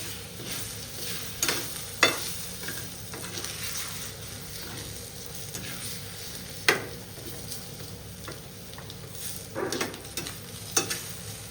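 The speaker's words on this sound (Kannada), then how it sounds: "ಈಗ ಒಂದೇ ಸತಿ ಹಾಕಿ ಅದನ್ನು ನೀಟಾಗಿ ಮಿಕ್ಸ್ ಮಾಡ್ಕೋಬೇಕಾಗುತ್ತೆ" Beaten eggs and onion greens being stirred in a pan for egg palya, soft sizzling throughout with occasional spatula scrapes and taps against the pan.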